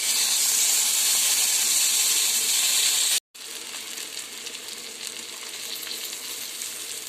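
Elephant foot yam slices sizzle loudly in a pan, then after a brief gap the frying continues more softly once they are flipped, a steady hiss throughout.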